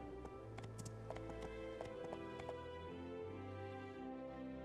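Horse hooves clip-clopping in the video game My Time at Portia, a steady run of light taps under game music with a few higher clicks.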